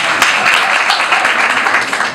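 Steady audience applause from a crowd at a Spanish-language urban music event, a dense continuous patter of clapping held at an even, loud level throughout.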